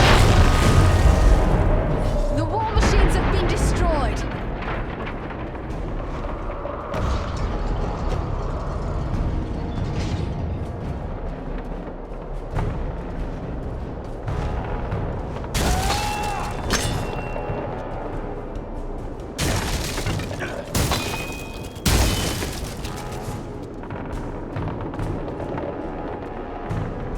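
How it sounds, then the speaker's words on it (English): Explosions and heavy booms in the Lord of the Rings video game War in the North as war machines are destroyed. The blasts are loud and come in repeated bursts over a dense, rumbling battle din. "The war machines have been destroyed!"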